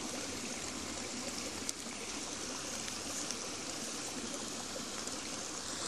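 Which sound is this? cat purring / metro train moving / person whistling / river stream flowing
river stream flowing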